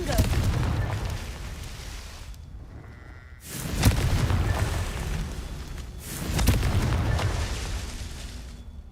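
Confringo fire spell explosions in Hogwarts Legacy: two loud blasting bursts a few seconds apart, each with a rumbling tail, over steady game ambience.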